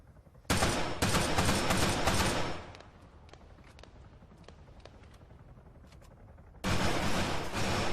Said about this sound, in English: Whoa, just heard a gunshot upstairs.